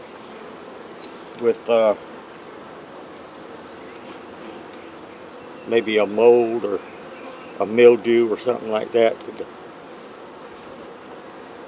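Honeybees hum softly and continuously around hive frames with foundation in a backyard hive. Someone talks intermittently over the low buzzing.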